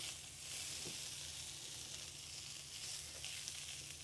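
Vegetable sabzi with dry-roasted crushed coriander being mixed in a pan, a faint steady sizzle with a couple of soft stirring touches.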